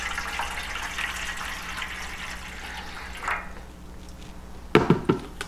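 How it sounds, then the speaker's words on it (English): Hot water pours steadily into a regular metal baking pan set up as a water bath for a New York cheesecake, a continuous rushing splash that fades near the end, followed by a few sharp clinks of the pan being handled. "We're going to pour hot water about 3/4 of the way"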